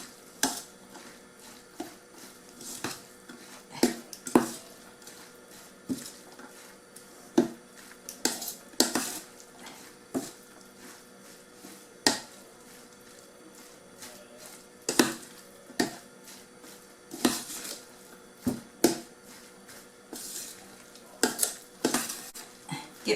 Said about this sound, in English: Alright, mix them together.